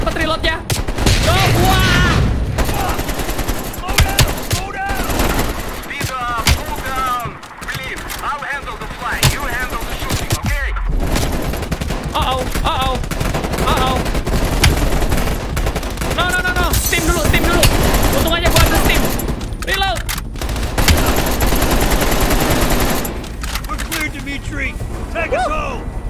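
AK rifle fire rattles in rapid, repeated bursts throughout a Call of Duty: Black Ops Cold War firefight, loud and close, with game voices talking over the shooting.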